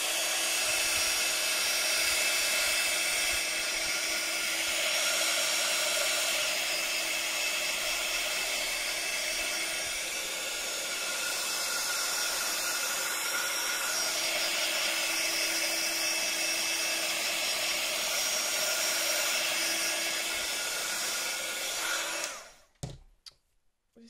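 A hair dryer blows steadily to dry paint on an art journal page, a loud continuous whirring hiss that holds for about twenty seconds before clicking off.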